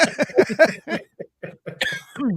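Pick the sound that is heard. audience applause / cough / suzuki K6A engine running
cough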